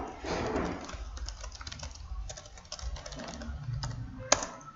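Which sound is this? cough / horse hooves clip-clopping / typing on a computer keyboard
typing on a computer keyboard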